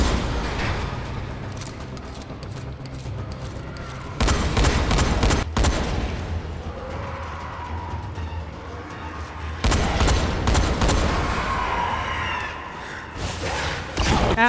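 Semi-automatic shotgun fire in the Dying Light zombie game, with heavy blasts packed into two loud bursts over a steady background of game noise and commotion.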